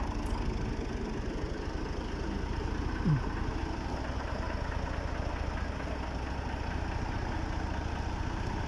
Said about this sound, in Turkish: Traktörle yolları açtı.